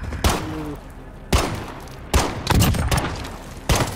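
Gunfire in the multiplayer game Call of Duty Modern Warfare: four or five loud, sharp shots in separated bursts, some with a short rattling tail, over a low game background hum.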